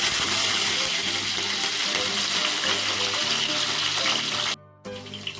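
Green chillies fry in hot oil for poha with a loud, dense sizzle that runs continuously, dipping briefly near the end before crackling resumes.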